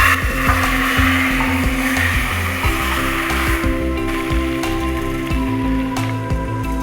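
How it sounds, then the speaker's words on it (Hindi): Round red chillies fry in hot oil for a moong masoor lentil tempering, making a loud, steady hissing sizzle over a continuous low rhythmic thumping in the background. "आठ से 9 इसके अंदर लाल मिर्चें डाल देंगे, गोल वाली।"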